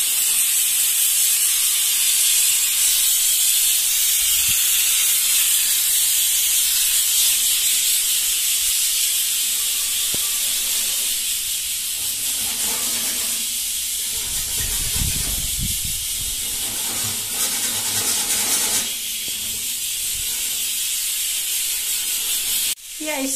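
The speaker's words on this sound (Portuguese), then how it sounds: "Tá o arroz cozinhando." Steam hisses loudly and continuously from a pot of cooking rice, a constant close rush with a few faint knocks and shifts partway through.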